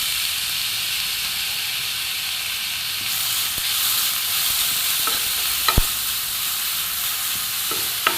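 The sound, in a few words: frying and stirring raw papaya in ghee in a pan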